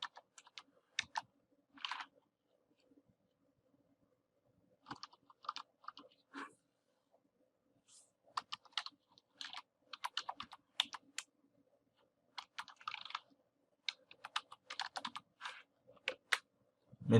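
Computer keyboard keys being typed in bursts of quick clicks with pauses between, fairly faint and close, no talking, while working on an image in Photoshop.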